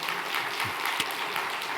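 Members of a church congregation clap for a man named Choi Won-seok, moderate steady applause from a gathered crowd with a few sharper individual claps standing out.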